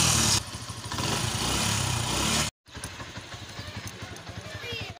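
Motorcycle engine started outdoors, then settling into a steady idle; a loud rough running burst cuts off abruptly, then the engine chugs again at a lower, even putter, with a voice speaking partway through.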